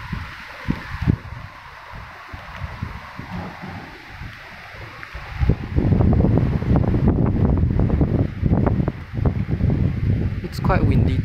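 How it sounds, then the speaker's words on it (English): Wind gusting outdoors beside a condominium block, buffeting the microphone with low rumble that grows stronger and steadier partway through, carrying on continuously. "Quite windy today."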